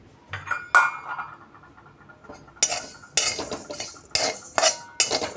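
Roasted chakli flour mix being stirred in a pan on a switched-off gas stove, with several sharp metallic clinks and scrapes of a spoon against the pan in bursts, fairly close and loud, with no talk.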